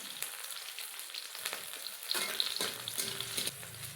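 Onion and green chillies, with dried red chillies, fry in hot oil in a pan, giving a close, steady sizzle with crackling pops that grows busier after a quieter start.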